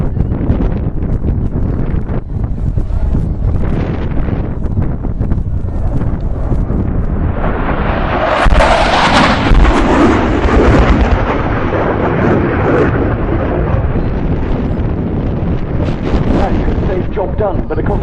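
A bomb goes off after a retarded lay-down attack by a Tornado GR4 at a role demonstration: a loud, deep broadband roar swells midway and rolls on as a long rumble amid steady wind noise.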